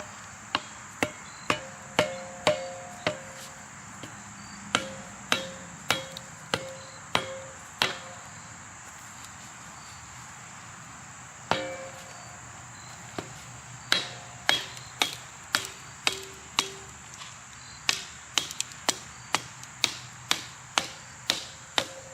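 Repeated sharp hammer blows strike a metal log splitter, splitting wood, irregularly spaced with short pauses, over a steady high-pitched background hum.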